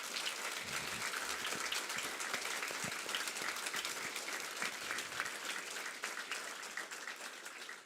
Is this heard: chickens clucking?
no